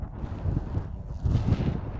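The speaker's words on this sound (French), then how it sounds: "ici le vent souffle fort" Strong wind gusting on a mountainside, a rough low roar buffeting the microphone, rising and falling in gusts and growing louder toward the end, with no speech.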